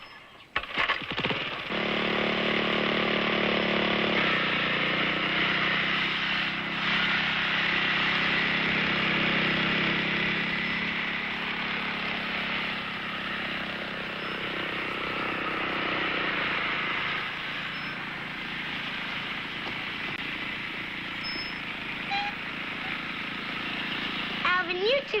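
In a cartoon, a lawn mower engine runs continuously for the whole stretch, a steady buzzing drone with slight wavering.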